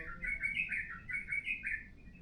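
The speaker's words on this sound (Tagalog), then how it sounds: "Good morning yung ibon." A bird chirps and trills in quick bright bursts on a morning on Nusa Penida, Bali, heard faintly and alone over a low background hush.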